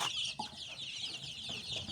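Many young chicks peep together in a dense, high-pitched chorus of rapid overlapping chirps, close and continuous, with a few lower clucks underneath.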